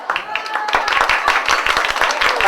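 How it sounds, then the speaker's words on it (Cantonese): An audience claps for a little girl at a stage show, a short burst of scattered, fairly close hand claps that forms light applause. "人哋拍手，多謝啊"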